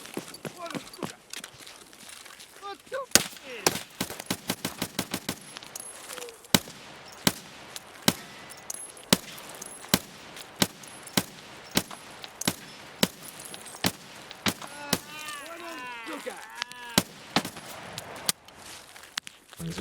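AK-105 rifle fire in Escape From Tarkov, sharp single shots and quick bursts spread across the scene, loud and near, with a voice talking between them.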